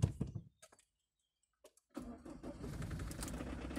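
A car engine starting for the first time after a major overhaul: a brief crank and cough, a silent gap, then the engine catches and settles into a steady, fairly loud idle.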